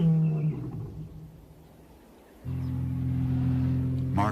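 A lion roars at dawn in the Botswana bush, a deep, sustained low rumble rising after a brief lull and holding steady, fairly close and loud over faint background.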